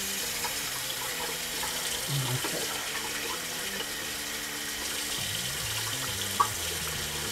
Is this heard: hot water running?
yes